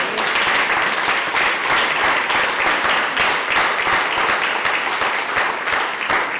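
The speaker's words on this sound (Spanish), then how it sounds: "Denle un aplauso al Señor en esta tarde." A church congregation at an afternoon service gives loud, continuous applause, many hands clapping in a dense, even roar that fills the room from start to finish.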